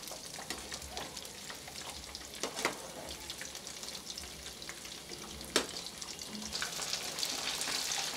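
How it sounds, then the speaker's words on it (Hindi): Crispy pizza rolls frying in oil in a pan, a steady close sizzle with scattered crackles and a few sharp utensil clicks, with no talk. "उलटे पलटे अच्छा सा कलर आ जाए वहाँ तक मैं इसे फ्राई कर लूँगी"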